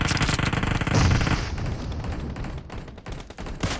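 Dense BGMI battle gunfire in an 8v8 arena match, sustained overlapping shots and bursts crackling loudly throughout, with no clear speech.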